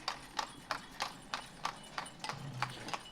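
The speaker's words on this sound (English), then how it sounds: "The actual horse wagons." Horse-drawn wagons in the village-building game Ostriv clip-clop steadily, a regular train of hoof strikes at moderate distance, fairly quiet.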